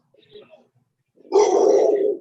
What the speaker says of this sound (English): He got the dog all riled up.